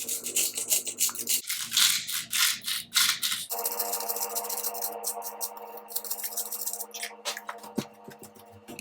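Herbs being ground by hand for kibbeh, a close, dry rubbing and scraping with quick ticking strokes that change texture partway through, at moderate volume.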